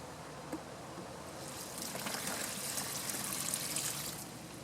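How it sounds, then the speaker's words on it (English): Water pours steadily into a small portable mini washer holding a load of shirts in an RV, a soft continuous trickle and splash that grows a little fuller midway, heard faint and close. "Pour in some more water."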